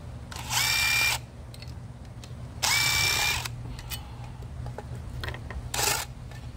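Wrench work on the head bolts of a seized engine on a Toro Timecutter zero-turn mower: three separate loud bursts of tool noise, each about half a second long, with quieter workshop hum between them.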